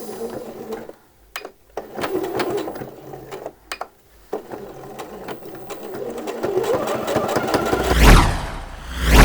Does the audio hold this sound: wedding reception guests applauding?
no